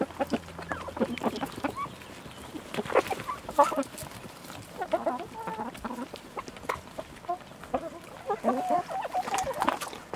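Backyard chickens cluck and murmur in short irregular bursts around an egg-collecting spot, moderately close and fairly soft, with scattered rustling and handling noises between calls.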